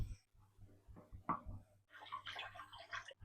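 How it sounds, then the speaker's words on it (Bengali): Boiled chow mein noodles being rinsed under water for egg chow mein, with a run of splashing, trickling and sloshing that turns denser and brighter in the second half, close by and with no talk. "চাউমিনটা ধোয়া কমপ্লিট।"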